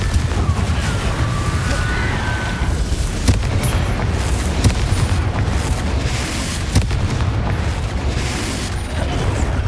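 Repeated Confringo blasting-spell explosions in the video game Hogwarts Legacy, a dense run of booming blasts and crashes layered over a steady rumble, loud and continuous throughout.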